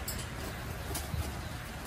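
Pigeons in a loft give soft, low cooing under a constant faint background hiss, with a brief coo standing out near the middle.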